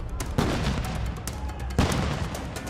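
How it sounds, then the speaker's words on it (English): Flashbang grenades exploding during a street protest with police and tear gas, two sharp loud booms about a second and a half apart over a dense, noisy crowd din. "There's explosions from flashbang grenades. There's another one going off now."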